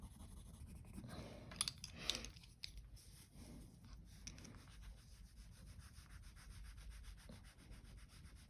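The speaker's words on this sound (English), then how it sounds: "I'm using the side of the pencil rather than the tip to put in a area of shadow there" Side of a watercolour pencil shading across paper, a soft continuous rubbing and scratching that runs steadily throughout with a few brighter strokes early on, close and quiet with no talking.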